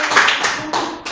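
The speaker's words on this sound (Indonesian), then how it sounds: "tepuk tangan dulu untuk Aldo dulu dong" Hands clapping in a short burst of applause from a group at an Islamic lecture event, close and fairly loud with uneven, slightly fading bursts.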